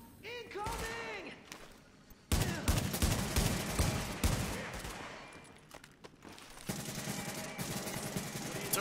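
Rapid turret machine-gun bursts in the shooter game The Division, loud and sustained over several seconds, with mechanical clatter and a brief quieter gap before firing resumes.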